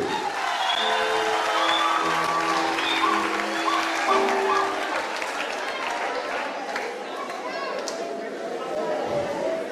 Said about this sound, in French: applaudis très fort pour lui